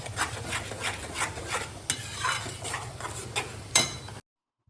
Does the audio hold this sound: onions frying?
yes